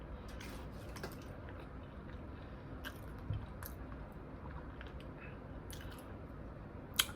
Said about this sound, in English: I chew my hot dogs all the way down.